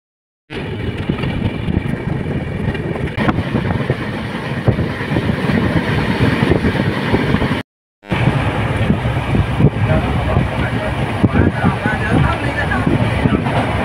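Steady loud rumble and rattle of a moving passenger train heard from inside the carriage, continuous apart from a brief dropout, with talk faintly mixed in.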